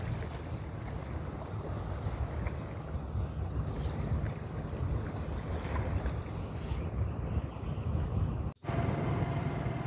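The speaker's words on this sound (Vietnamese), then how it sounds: "từ cái phía biển Đông gió nó thổi vào trong đây, quý vị thấy những con sóng trên sông Sòi Rạp nè" Wind gusting in off the sea over the wide Soài Rạp river mouth, stirring up waves: a steady, broad roar of wind buffeting the microphone, with washing water beneath it and a brief dropout near the end.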